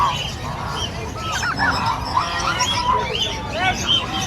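Geese honk repeatedly at a pets and livestock market, scattered calls rising over busy crowd noise while people talk nearby.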